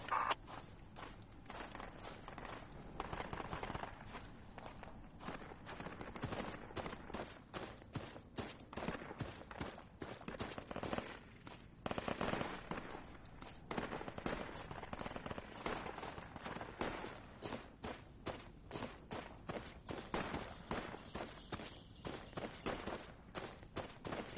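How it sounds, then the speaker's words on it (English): Machine gun fire in the military video game Project Reality, rapid cracking bursts and scattered shots repeating throughout, fairly close and sharp, with no talk. "That was an MG in the hill"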